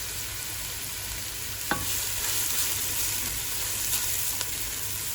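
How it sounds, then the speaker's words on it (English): Green chilies hit a frying pan with a sharp clack, then sizzle steadily in oil under occasional light stirring scrapes and taps; no talking. "Now she's gonna add the green chilies."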